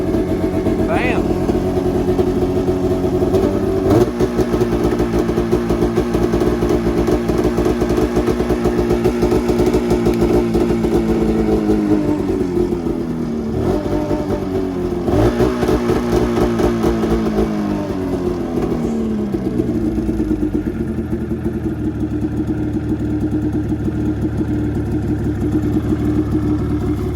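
A Mountain Cat vehicle engine that has just started running, idling roughly and revving steadily at close range for a long stretch, then settling lower toward the end, with a voice talking over it.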